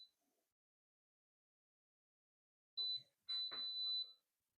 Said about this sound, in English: The different beep is the camera connecting to the drone.